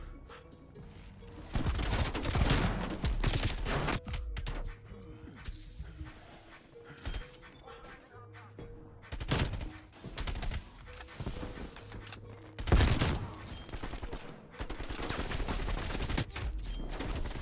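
Two players firing in the Call of Duty: Cold War video game, bursts of gunshots recurring at intervals over a constant game soundscape, with a few louder clusters of shots.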